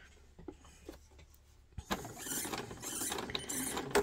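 Sewing machine back stitching a seam on 18th-century fall front trousers, a dense mechanical whir that starts near the midpoint and runs steadily to the end after quieter handling sounds.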